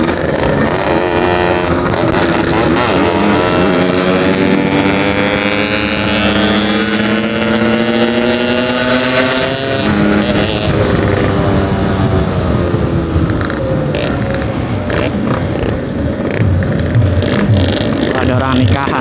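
A motorcycle accelerating along a smooth, quiet open road, engine tone climbing steadily under heavy wind rush, with a rider talking over it.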